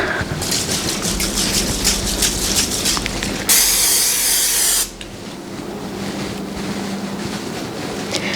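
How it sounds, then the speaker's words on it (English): A steady hiss of Pam cooking spray from a can lasting over a second, surrounded by quieter kitchen clatter and background noise. "So I'm going to spray this with Pam."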